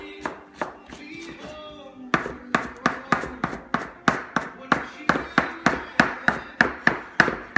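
A knife chops cilantro on a cutting board for coarse salsa and guacamole, the blade striking in a steady rhythm of about a dozen close, crisp knocks after a stretch of softer handling and background noise.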